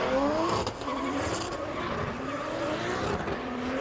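A Formula Drift car, number 555, runs a qualifying lap at Fuji, its engine droning loudly with rising and falling revs and a tire-scraping wash, heard from a distance and with no talk.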